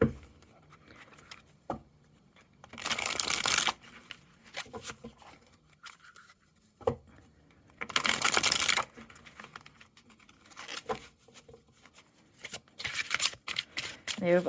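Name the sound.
shuffling tarot cards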